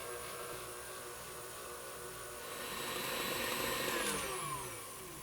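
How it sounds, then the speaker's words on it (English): An electric mixer with a whisk attachment whirs steadily while whisking vegan batter, a continuous motor whine with bright tonal overtones that swells slightly louder near the middle and then settles. "I'm going to put the whisk back on"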